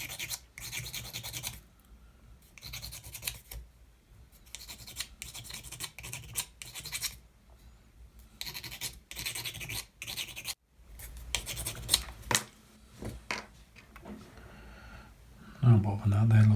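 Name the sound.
sanding model ship parts with a nail file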